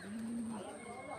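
Shyam Address and Jiriya pigeons landing after a long flight, with soft low cooing and brief bird calls close by while someone talks over them in the open air.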